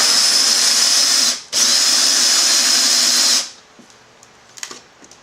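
A loud, high-pitched handheld power drill drilling a homemade arcade control panel overlay whirs for a few seconds, stops briefly, runs again, then cuts off, leaving faint clicks and handling noises.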